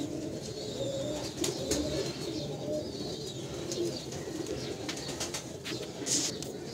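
Supreme Teddy breed pigeons, a breeder pair, coo softly with low repeated murmuring calls, joined by occasional chirps and a faint clatter against a steady background.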